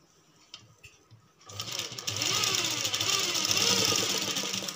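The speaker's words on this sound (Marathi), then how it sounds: "दाब शिलाई देऊन घेऊ." A sewing machine stitches folded fabric for a neck design, starting after a quiet moment with a few faint clicks and then running steadily and fairly close, a fast continuous whirring stitch.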